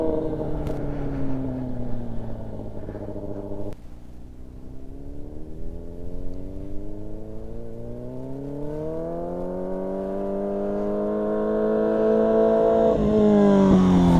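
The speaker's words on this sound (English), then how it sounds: "Freaking MotoGP racer over here, accelerating out of the corner and everything." A motorcycle with a sensitive racing throttle accelerates out of a corner, its engine note dropping on a shift and then climbing steadily in pitch and loudness as it pulls away, close and continuous.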